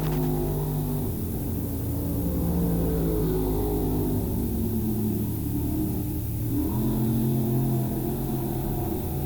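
Crate late model race cars roar past at Hagerstown Speedway, a continuous loud engine drone with rising and falling revs as the pack comes off a turn, filling the whole stretch without voices.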